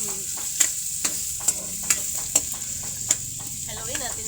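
Chicken curry fries in a pan with a constant hiss and sizzle while a utensil is stirred through it, giving sharp periodic scrapes and taps about every half second.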